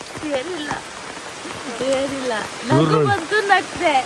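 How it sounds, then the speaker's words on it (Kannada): Heavy rain pours down at night in a dense, steady hiss while people laugh and talk over it nearby during a crab hunt. "ಜೋರು ಮಳೆ ಬಂತು."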